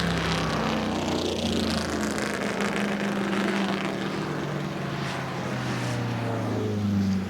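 A 1950s Vanwall Formula One racing car passes at the Goodwood Revival 1957 British Grand Prix celebration, its loud engine drone sustained and steady, shifting slightly in pitch as it goes by.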